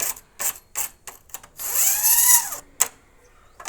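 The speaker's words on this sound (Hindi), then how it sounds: "स्केल से जो ये पीछे वाली सारी सुइयां हैं इनको हम आगे की तरफ कर देंगे।" Knitting machine needles are pushed forward with a scale, giving a series of close, sharp metallic clicks and rattles followed by a longer sliding scrape, then a final click.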